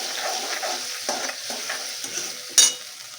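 Ingredients for a thick Manchurian gravy, with black pepper and salt just added, are stirred together in a pan, giving a soft, steady scraping sizzle with a few brief clinks and one sharp utensil knock near the end.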